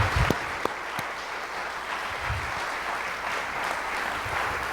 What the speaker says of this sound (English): Let's give Dr. Dufour another round of applause.